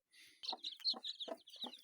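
A broody hen clucks in short, soft bursts mixed with high peeping from broiler chicks, close by and quiet.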